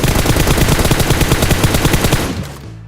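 Loud rapid automatic gunfire in a battle royale mobile game, a dense continuous burst close up that cuts off abruptly.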